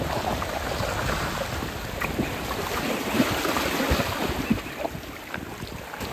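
Ocean waves wash onto a Nova Scotia beach in a steady, close roar of surf mixed with gusty wind buffeting the microphone, with a couple of slightly stronger surges partway through.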